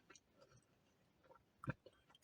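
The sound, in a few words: eating crispy fries from Becca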